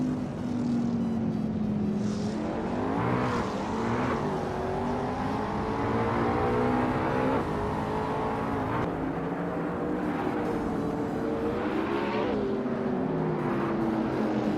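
Race cars in a racing video game at Wakefield Park give a continuous engine whine that climbs and drops through gear changes. Shifts and passing swells come every couple of seconds at moderate loudness, with no voices.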